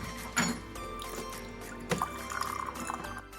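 Cold water poured into a container for a homemade volcano experiment: a steady trickling, splashing pour with a few brief knocks and clinks, close and fairly quiet, with no talk.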